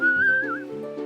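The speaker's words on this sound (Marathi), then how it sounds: "तिने तिच्या समुद्री मित्रांसाठी शिट्टी वाजवली" A bright whistle in an animated mermaid story, a sustained tone that slides and wavers for about half a second, over a soft musical background.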